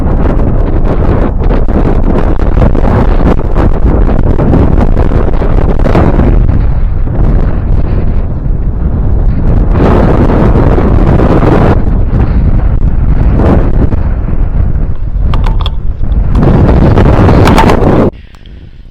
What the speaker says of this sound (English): that wind is something today